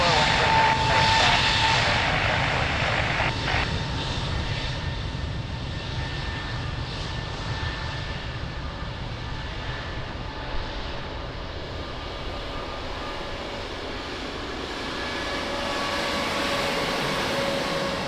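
A jet airliner takes off from Lisbon Airport, a loud continuous engine roar that swells, then slowly fades and rises again, heard together with radio chatter from air traffic control.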